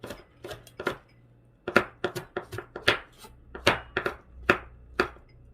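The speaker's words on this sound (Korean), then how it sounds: "이 빨간 고추도 어슷썰게 해줄게요" A knife slices a red chili pepper diagonally on a cutting board in a series of sharp, irregular close-up chops, with brief gaps between bursts.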